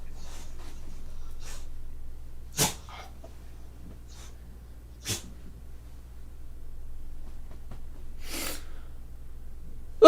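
A dog gives a few sharp, breathy snorts spaced several seconds apart, close by, with low steady hum beneath and quiet stretches between bursts.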